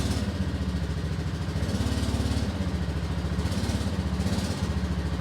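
A 1998 Yamaha Majesty scooter with a newly installed exhaust idles at a steady, even putter, a close, continuous mid-pitched engine drone with a light rhythmic clatter and no voices.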